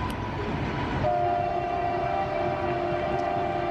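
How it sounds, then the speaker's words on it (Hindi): A new-design locomotive train, a steady loud rumble with a sustained horn-like tone that holds from about a second in, heard without talk. "ये एक नई तरह के लोकोमोटिव है।"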